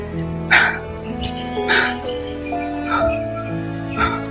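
Dogs barking in an action video game where armed bandits bring dogs along. Several sharp bark bursts come at intervals over a steady bed of game music and tones.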